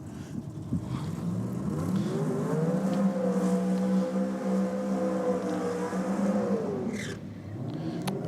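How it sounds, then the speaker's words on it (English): A boosted drag racing car at a championship meet does a burnout, its engine climbing to a high, sustained, strained drone for several seconds before dropping away, heard from a moderate distance. "a few pounds of boost being ingested by these power plants, going through their burnouts"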